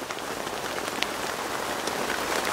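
Heavy rain pours down steadily outdoors at a carp-fishing spot, giving a dense, continuous hiss of drops drumming on a surface with no pauses.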